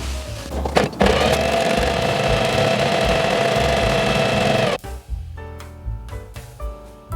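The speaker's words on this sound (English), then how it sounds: "I'm just on my sewing machine, hemming and gathering." A sewing machine hems and gathers fabric, humming in a steady, loud whir for several seconds, then stops, followed by a few short mechanical clicks and bursts.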